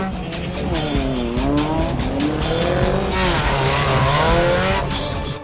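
Rally cars race along a dusty, rough mountain track through steep gorges of the Giri Valley in the Himalayas, with engines whining and rising and falling steadily throughout and loud, continuous noise from nearby vehicles.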